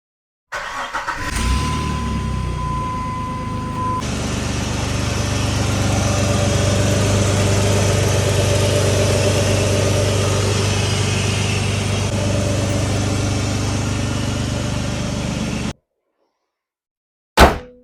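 A Jeep Liberty KJ engine fires up after new battery cables are fitted, then settles into a steady, close, rumbling idle that runs for several seconds before cutting off abruptly.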